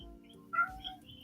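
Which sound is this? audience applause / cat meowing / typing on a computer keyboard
cat meowing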